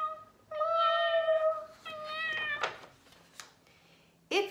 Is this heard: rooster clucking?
no